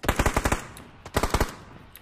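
Automatic gunfire in the PUBG video game, fired from a red-dot-sighted gun: two loud, rapid bursts of about six shots each, separated by a short pause, with no talking.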